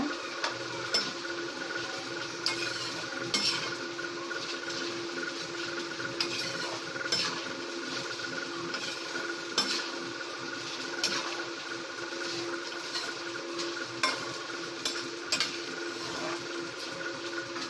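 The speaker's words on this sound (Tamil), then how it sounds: "சீக்கிரமாக ஃப்ரை ஆகிடும் இது, அதனால் பார்த்து டக்குன்னு எடுத்துருங்க" A savoury mixture snack fries in hot oil in a pan: a steady close hiss and sizzle runs throughout, broken by frequent light clinks and scrapes of a ladle against the metal, with no speech.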